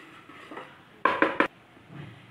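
Flour roasting in melted butter in a pan, heard as three quick, close scraping or clinking stirs bunched together, with quiet kitchen background on either side.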